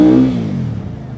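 Engine of a Benda 450 Napoleon motorcycle, loud and close: a single strong rev whose pitch falls as it winds down and fades into a lower rumble.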